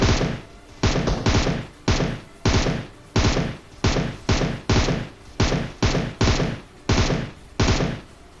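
Gunfire in a battle royale video game comes as a rapid series of loud, punchy shots, about seventeen sharp bursts spaced unevenly in quick succession, close and alone.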